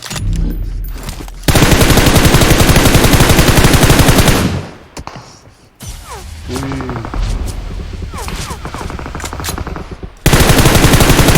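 Loud automatic gunfire from the mobile battle-royale game PUBG Mobile rattles in long, rapid bursts, broken by a short lull. A voice can be heard faintly between the volleys.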